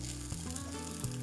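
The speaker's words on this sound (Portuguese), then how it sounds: "Como eu tenho aqui a frigideira bem quente, olha" Dough sizzling in a very hot frying pan, a soft steady hiss and crackle, quiet and close with no talk.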